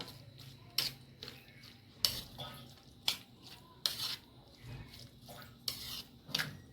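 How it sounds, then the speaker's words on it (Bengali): Onion and finely chopped chili filling for stuffed kakrol is worked together in a bowl, with a run of about eight sharp clinks and scrapes at uneven intervals, close and fairly quiet, with no talking. "এবার এটাকে ভালো করে মেখে নেব।"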